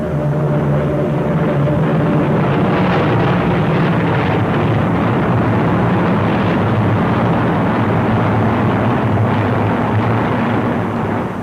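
Formation of WWII fighter aircraft flying at altitude, a loud, steady engine drone with rushing wind noise that continues unbroken throughout.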